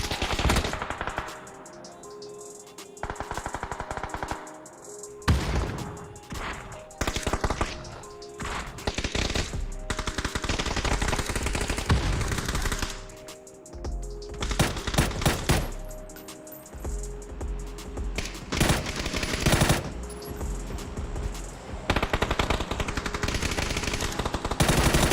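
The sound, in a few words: gunfire in a video game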